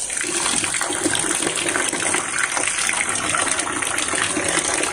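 Water gushes loudly and continuously out of a rooftop water tank being drained for cleaning, a close, steady splashing rush with no pauses and no talk.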